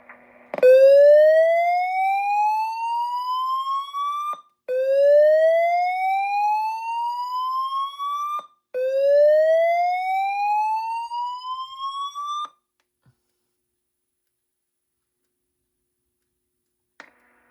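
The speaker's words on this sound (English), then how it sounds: "There has been a fire alarm reported in the building." Notifier NFS2-640 fire alarm system sounding in a building: three loud rising whoop tones, each sweeping upward for about four seconds, then silence apart from a faint click.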